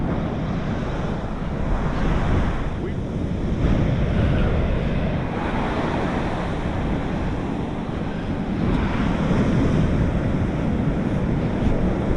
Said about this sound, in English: Waves are pretty big